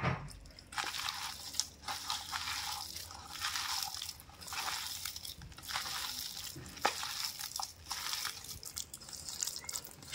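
Pakora batter being mixed by hand, with soft wet squelching and sticky crackling slaps in an irregular rhythm, close and quiet with no talking.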